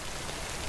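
A steady wash of rain hiss in the video game Death Stranding, dense and even, pattering on a surface with no voices present.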